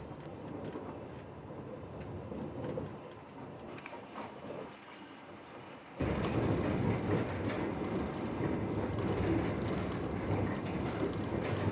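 A passenger train runs eastward across the Russian countryside toward Ekaterinburg, its steady rumbling roar and rail clatter continuous from an onboard position, growing noticeably louder and denser midway through.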